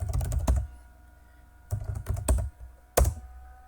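A command is typed on a computer keyboard, three short bursts of quick, close key clicks separated by pauses, with no talking.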